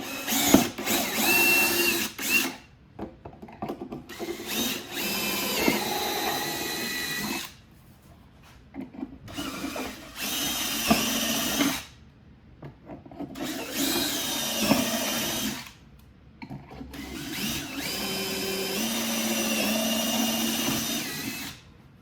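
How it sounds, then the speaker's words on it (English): A power drill whirs in several bursts of a few seconds each, with short pauses between, close and loud, drilling pilot holes through motorcycle mounting holes. "go ahead and drill your pilot holes through these big mounting holes"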